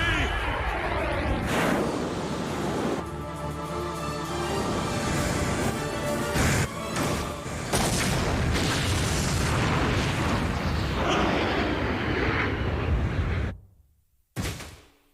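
Missiles self-destruct in a Crisis Brigade 2 VR game cutscene: a long, loud roar of booming blasts and rumbling debris that cuts off abruptly near the end, followed by a brief softer tail.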